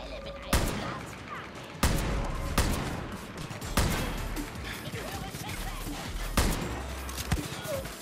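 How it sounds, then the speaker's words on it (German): Several sharp gunshots in the video game Far Cry New Dawn crack out at irregular intervals, loud and close, with crowded game noise filling the gaps between them. "Schüsse"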